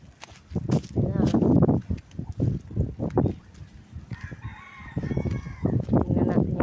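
Chickens at a farm crow and cluck close by, a rooster's call rising mid-clip over scattered clucks and footsteps, with a person talking throughout.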